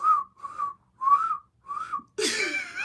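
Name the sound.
person whistling, imitating a catcall whistle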